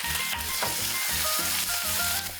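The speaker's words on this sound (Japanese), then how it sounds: "オリーブオイル温めてアサリ入れます。" Clams go into warmed olive oil in an old saucepan and sizzle hard at close range, with loud continuous crackling and a few sharp spits over a rhythmic clatter of shells. No talking.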